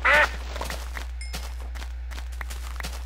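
Minecraft chicken sound, a single short clucking call at the start, followed by soft game footsteps and faint clicks over a low steady hum.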